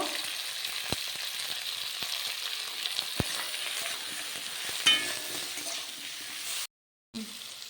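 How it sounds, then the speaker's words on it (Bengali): Ground chilli, turmeric, cumin and coriander powders fry with chopped tomato in a pan, giving a constant soft sizzle with occasional stirring scrapes and a short gap near the end. "মশলাটা খুব ভালোভাবে ভেজে নিতে হবে"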